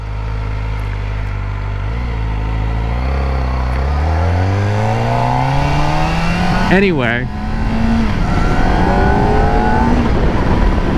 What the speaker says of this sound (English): I love the sound of an inline 4.